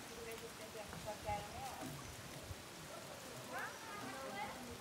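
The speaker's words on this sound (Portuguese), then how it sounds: "É chuva, hein?" Steady rain falls outdoors as an even, close hiss of drops with no breaks, while voices talk over it.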